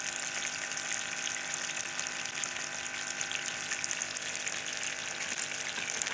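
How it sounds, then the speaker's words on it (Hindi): Chicken wings fry a second time in hot ghee, a dense, continuous crackling sizzle heard close up with no voices. "ये इनको दोबारा फ्राई कर रही हूँ, पहले हम फ्राई किए थे।"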